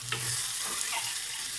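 Tamarind juice pours into a hot pan of tomato curry, raising a loud, continuous sizzle with bubbling hiss and a brief splash at the start.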